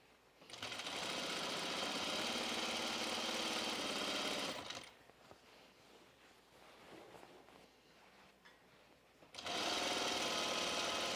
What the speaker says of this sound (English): I started sewing this there. So this just gathers the fabric a little bit.